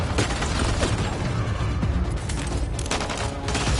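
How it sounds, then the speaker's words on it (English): Dense, continuous gunfire rattles without pause during a firefight in Mass Effect Andromeda, loud and close, with heavy rapid shots and bursts layered over one another. "Just keep firing, we can do this!"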